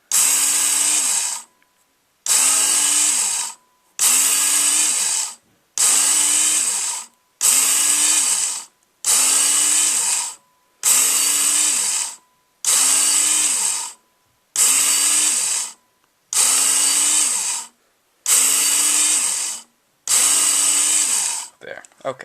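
Work Sharp belt knife sharpener grinding a knife edge in a dozen repeated passes, each a loud steady whir of about one and a half seconds with brief silent gaps between, metal-on-belt hiss riding over the motor hum.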